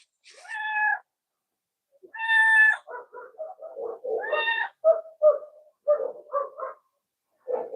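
An orange and white cat meows repeatedly and insistently, a string of close, clear cries of varying length broken by short pauses.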